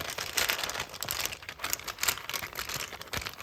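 Quick, crisp papery riffling and rustling of tarot and Lenormand cards being shuffled close up, in short uneven bursts.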